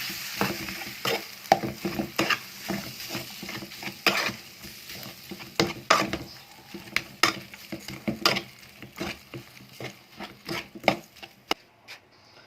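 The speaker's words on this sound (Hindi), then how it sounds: "अच्छे तरीके से मिक्स कर लेंगे।" A utensil repeatedly scrapes and stirs potato kachori filling in a pan, irregular knocks and scrapes over a soft sizzle, close up with no talking.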